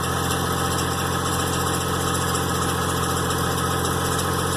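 The engine of a GMC Envoy under transmission repair runs steadily at idle, a loud continuous hum and whir from the fan area with a faint metallic edge, and no talk over it.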